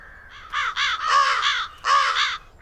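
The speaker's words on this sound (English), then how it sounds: "So how can I stop the crows from eating my seeds?" Crows in a children's train cartoon caw loudly and close by, a few harsh calls in two quick bursts with no talk over them.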